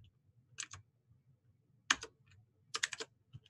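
Typing on a computer keyboard during a coding session: sparse, crisp key clicks in small clusters with quiet gaps, close and faint.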